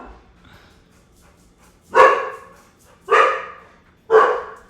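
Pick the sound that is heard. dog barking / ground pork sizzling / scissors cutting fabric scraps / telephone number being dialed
dog barking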